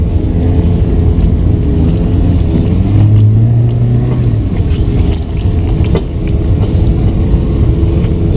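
A car grinds along a rough, stony mountain road on a windy day, its engine a loud, steady rumble with wind buffeting the microphone and bumps jolting through, no talk.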